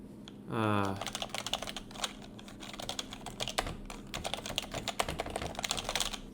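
Mechanical keystrokes from an HHKB Pro 2 keyboard, a steady run of close, crisp clacks and thocks in quick irregular rhythm, following a brief rising electronic chirp at the start.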